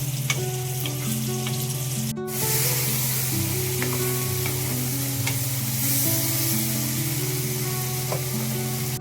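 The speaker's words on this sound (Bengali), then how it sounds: "পেঁপে ভাজা হচ্ছে" Papaya frying in a pan in a home kitchen, a loud continuous sizzle with stirring scrapes and a low steady hum underneath, close and without talk.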